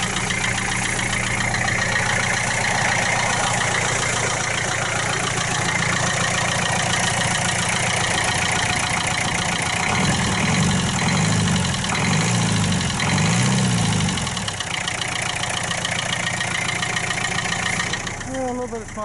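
A 1966 Austin London taxi engine idles steadily and close by, just started after years, a continuous low rumble with a busier patch midway; people talk over it.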